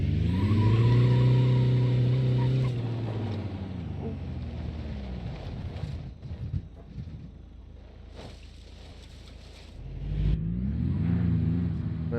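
A Nissan Qashqai mod car in BeamNG.drive revs hard with a rising and falling engine note, then eases off into tyre scrubbing and skidding noise before the engine climbs again near the end.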